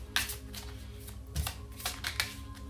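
Quick crisp tarot card shuffles and flicks, several sharp snaps in a loose irregular rhythm, close up and fairly quiet.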